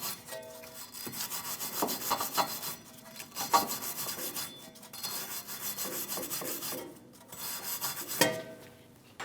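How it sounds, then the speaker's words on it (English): A wire brush scrubs the rear wheel hub of a Mitsubishi Outlander, a close, continuous raspy scraping made of back-and-forth strokes with a few short pauses. "Using a wire brush, we're going to clean our hub."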